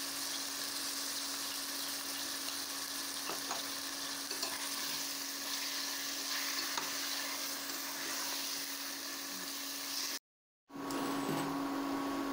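Spinach and poppy seed paste stirred in a frying pan: a steady, close sizzle with a constant hum, broken by a brief silence before the frying resumes.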